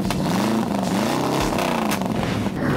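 A street rod's engine revs loudly and close by at a small-town car show, with its pitch rising and falling through a couple of throttle blips over a rough, rumbling idle.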